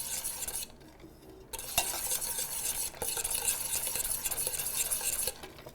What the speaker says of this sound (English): And just whisk until it's thoroughly combined.